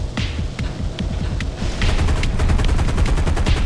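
Rapid bursts of aircraft gunner fire in War Thunder, a Blenheim bomber, with rattling gunfire in quick trains over a steady engine drone, getting denser and louder halfway through, with no talking.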